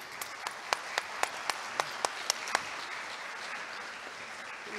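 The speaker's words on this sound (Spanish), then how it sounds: "Le damos un fuerte aplauso a don José Francisco, a don Agustín." Applause at an international culture symposium for two speakers: a soft, steady wash of crowd clapping heard from some distance, with one nearby pair of hands clapping sharply and evenly about nine times before stopping.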